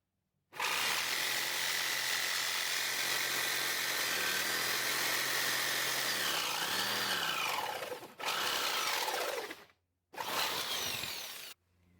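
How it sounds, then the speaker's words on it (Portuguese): Power saw cutting through a pine board for a farmhouse rooster decoration, loud and steady for long stretches with brief pauses as the blade is repositioned for curves, then resuming close by. "Agora eu venho com a serra aqui"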